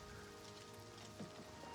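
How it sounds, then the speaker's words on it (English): Steady rain falling in the video game Oblivion Remastered, a soft continuous patter and hiss of drops on surfaces that runs unbroken through the moment with no talking. "I do like the rain."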